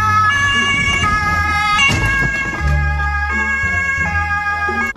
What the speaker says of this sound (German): Die Polizei hat einfach die Sirene angemacht, um zu ihren eigenen Unfall zu fahren.